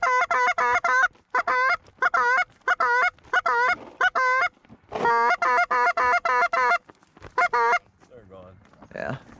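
Canada geese calling during an opening-day goose hunt, a flock giving repeated loud, close honks in quick overlapping bursts, with short gaps and a brief voice near the end.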